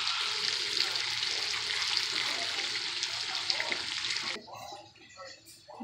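Chunks of bacon sizzle and crackle in a pot for lentil soup, a steady, close frying hiss that cuts off abruptly near the end, leaving faint kitchen sounds.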